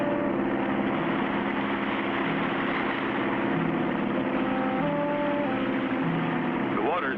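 Boat engine running steadily to hold against the river current just above a waterfall, a continuous mid-pitched droning hum that stays even throughout, with a short rising whine near the end.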